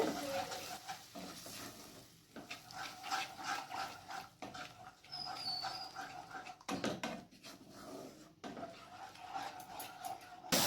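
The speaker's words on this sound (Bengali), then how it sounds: "আবার ভালো করে মশলাটাকে মিক্স করে নেব" Spice masala being stirred in a pan while okra is cooked with butter, water just added; steady scraping and stirring strokes with a soft sizzle underneath, close and moderately loud throughout.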